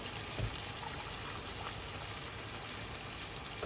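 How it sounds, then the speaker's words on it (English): Freshly boiled kettle water pours into a pot of rice for chicken pilau, a steady quiet trickling wash that runs unbroken and close, with no talk over it. "I've boiled the kettle, so I'm going to start putting that in now."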